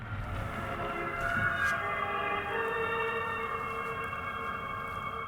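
A 2024 Fiat 500e Topolino gives off its synthetic singing tone while accelerating, a steady layered whine that holds alone over cabin road noise without talk.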